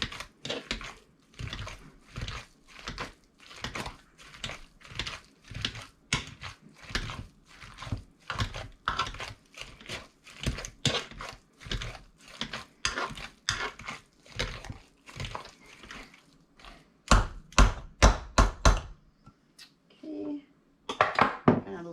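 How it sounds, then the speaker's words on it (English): Potatoes being mashed with whipped chive cream cheese for shepherd's pie, giving a long run of repeated wet squelching and thumping strokes, steady then louder and quicker toward the end, with brief speech mixed in. "Let's give this another mash."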